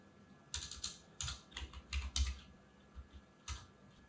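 Bursts of clicky keystrokes on a computer keyboard while a prompt is typed, coming in short irregular clusters with brief pauses between them, fairly quiet and close, with no voices.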